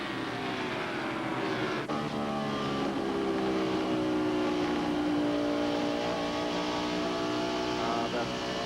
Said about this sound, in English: Those engines really sound good across that short chute.